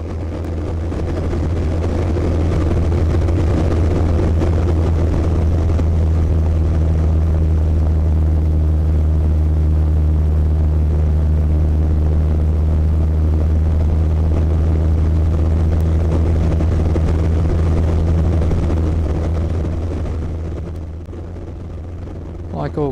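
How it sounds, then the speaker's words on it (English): Zenith CH200 light propeller aircraft flying steep turns, zooms and swoops, a loud steady engine drone and low propeller hum throughout, easing slightly near the end. "I entered into a few more steeper turns and a couple of zooms and swoops to finish off the manoeuvring demonstration of the aircraft"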